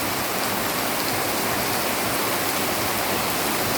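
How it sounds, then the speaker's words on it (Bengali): Steady, dense rainfall in rural Bengal on a rainy afternoon, a continuous even hiss of drops with no pauses, fairly loud and close with no voices over it. "এখন খালি বৃষ্টি দেখো"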